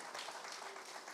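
Audience applause welcomes a guest to the stage at a meditation science session, a steady dense wash of clapping that fills the whole moment with no talk over it.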